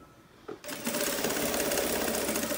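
A sewing machine stitches around the pocket of a handmade teddy-bear backpack, starting after a brief click and then running in a continuous, rapid, loud whir to the end.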